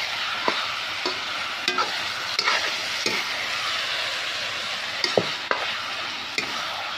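Spices, onion and ginger sizzle in a pan as meat is added, with a steady frying hiss broken by scattered scraping stirs. The sound is close and no one speaks.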